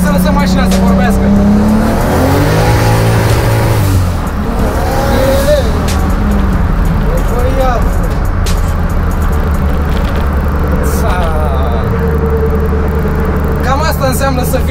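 A 600-horsepower BMW E30 roars loudly and close, revving hard with rising and falling engine pitch as it drives, with brief tire noise and some voices talking over it.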